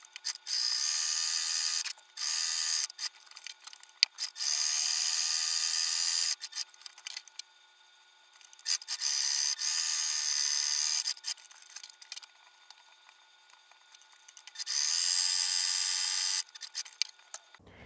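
Sewing machine quilting straight lines through fabric and batting, running in several loud, even bursts of rapid stitching separated by short pauses and a longer quiet gap, close up with no talk.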